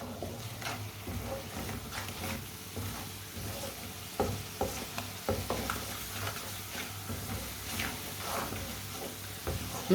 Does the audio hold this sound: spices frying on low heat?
yes